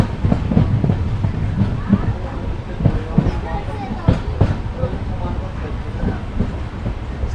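Fast 14505 Nangal Dam Express running on rails, a loud steady rumble with rhythmic clickety-clack wheel beats throughout, heard from inside the moving train.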